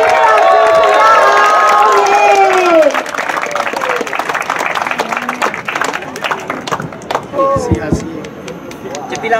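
A crowd claps and cheers at a 2018 friendly football cup awards ceremony. An announcer speaks loudly at first, then scattered, uneven applause and voices carry on beneath him.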